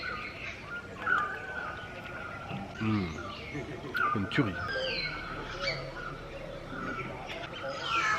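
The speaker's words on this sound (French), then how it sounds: "Vous entendez, bien sûr, les oiseaux sont toujours bien présents, le chant des oiseaux." Birds chirp and sing around a café set in nature in Ella, Sri Lanka, their calls faint and scattered behind steady nearby conversation.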